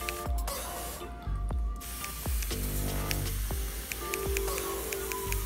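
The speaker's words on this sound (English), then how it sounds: "just spray the plant down" A hand spray bottle misting water onto a mimosa plant and its soil while replanting, with several short, sharp hissing bursts in an irregular rhythm, close and fairly quiet.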